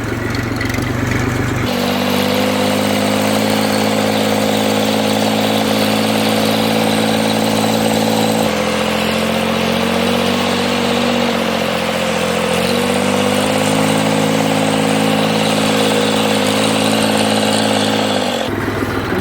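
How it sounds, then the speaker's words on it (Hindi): A tractor engine runs steadily and loudly while driving on a farm, a continuous mid-pitched diesel drone that shifts slightly in load partway through, with no talk. "अभी मैं थोड़ा ट्रैक्टर चला लूँ फिर बात करता हूँ आपसे"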